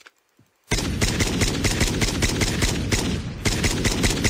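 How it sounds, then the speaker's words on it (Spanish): Gunfire in the mobile shooter game Call of Duty Mobile, a loud sustained automatic burst that kicks in abruptly after near silence and rattles on steadily with a brief dip near the end. "Mira, y estoy escuchando disparos otra vez."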